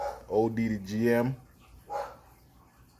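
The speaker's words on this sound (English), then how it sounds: "Pardon if you hear my dog in the background." A dog barks outside a couple of times in the distance while someone talks over it, the yaps faint behind his voice.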